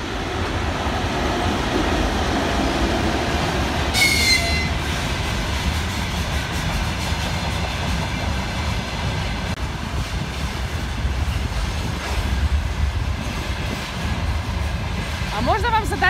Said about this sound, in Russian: Грузовой поезд.